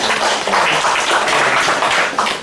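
A church congregation claps steadily in a dense, sustained round of applause after a certificate presentation at an Alpha course graduation, many hands together filling the room without speech.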